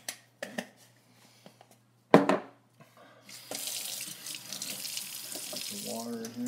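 Water runs from a tap into a sink while duck feed is being prepared. A few sharp knocks and clicks come first, then a steady, close hiss of flowing water that shifts in tone near the end.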